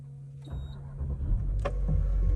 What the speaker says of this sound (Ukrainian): Заведемо автомобіль.